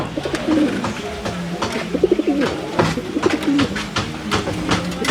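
Soft, throaty pigeon coos repeat in a loose rhythm, close by, with faint rustling and scattered clicks around them.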